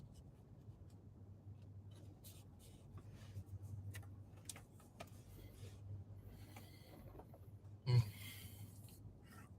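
Someone types on a keyboard: faint, irregular clicks and taps scattered through the clip over a low steady hum, with one louder knock near the end.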